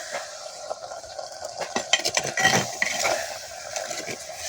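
A spoon stirs fish curry with fresh coriander in a pot, giving close scraping and light clinking sounds over a soft sizzle, building slightly in the middle and easing off.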